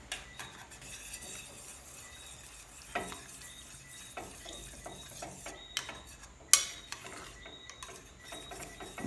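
Sweet and spicy sauce being stirred in a pan, giving quiet intermittent scrapes and clinks of a utensil against the pan over a soft background sizzle.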